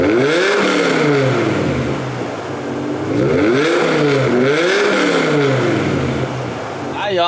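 BMW E60 M5 V10 fitted with aftermarket headers, revved hard several times with its exhaust valves closed, the rising and falling engine note loud and close, with a brief sharp noise at the end.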